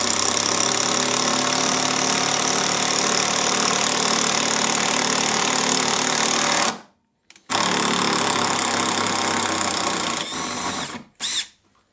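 A DeWalt impact driver with an impact torsion bit drives a 3-inch non-self-drilling Quicksilver screw into softwood. The loud, steady rattling whir runs for about seven seconds, stops, then resumes with a few shorter bursts.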